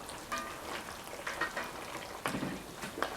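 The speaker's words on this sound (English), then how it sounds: "Okay, let's just give it a stir." A pot of Caribbean curry mutton with reduced sauce is stirred, soft scraping strokes and wet slurps over a gentle bubbling sizzle, close and fairly quiet, with a few sharper clinks.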